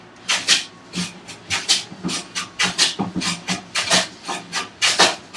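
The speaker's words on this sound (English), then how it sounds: "as you can hear, it's skipping because I was doing a lot of other planing and working everything on the bench" Hand plane skipping and chattering across a wooden workbench top, a series of rough, rasping strokes repeating in a steady rhythm, close and fairly loud with no talking.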